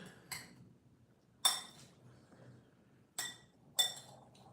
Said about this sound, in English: So I'm just going to stir everything up.